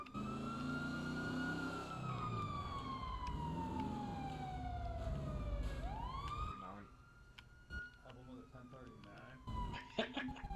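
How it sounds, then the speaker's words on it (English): A police car siren wails in a FiveM roleplay session of GTA V, loud and close, sweeping up and down in a long wail before switching to faster yelps, with engine rumble beneath and brief radio chatter near the end. "Lights and sirens, get him pulled."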